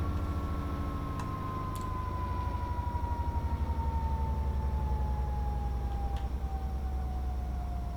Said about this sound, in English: Love that sound of the engine sort of coming down from accelerating, almost like the reverberating sound.